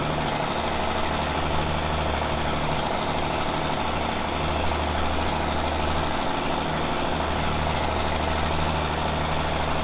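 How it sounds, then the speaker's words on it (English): Tractor engine in Farming Simulator 17 pulling a load through muddy ground, a steady loud diesel drone running the whole time with no break. "Definitely not the best tractor for the job"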